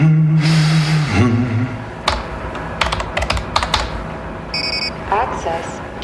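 Fingers type a password on a computer keyboard in a short, uneven burst of close, crisp key clicks, followed by a few electronic beeps, with a gasp-like breath and room noise around.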